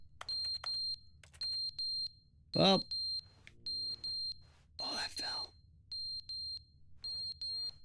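A smoke alarm emits repeated high-pitched beeps in an even rhythm, sounding moderately loud and steady as brief remarks and a clatter break in between beeps.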